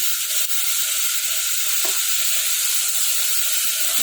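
Tomatoes dropped into a hot pan of cluster beans, a loud steady sizzle and frying hiss running throughout with faint stirring.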